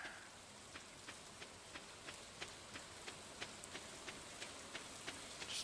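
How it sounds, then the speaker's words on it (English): Rain in the Stardew Valley video game, a soft, even hiss of falling drops with faint periodic taps, maybe footsteps, ticking along at a regular pace underneath. "Just walking in the rain."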